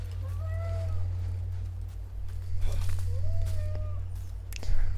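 A cat meows twice in the Dragon Age Veilguard video game, each call a short rising-falling cry, over a constant low game hum with faint footsteps and rustles.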